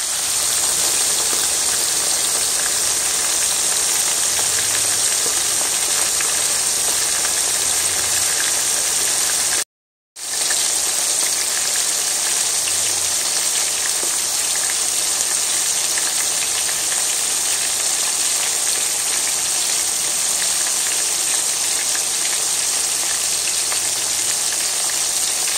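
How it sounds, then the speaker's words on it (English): Chicken wings cooking in hot oil give a loud, steady, close frying hiss that runs unbroken except for one brief cut-out midway, with no talking. "them wings in there cooking up pretty nice"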